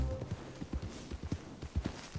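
Horse hooves clip-clop in a video game, a steady walking rhythm of soft, close thuds over about two seconds with no talk.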